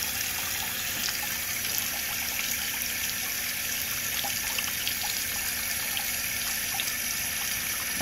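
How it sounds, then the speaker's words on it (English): Water poured into a container of dye-penetration test liquid holding knives, a steady close trickle and splash running continuously throughout with no speech. "She's gonna add some more water in there to make sure it's covered."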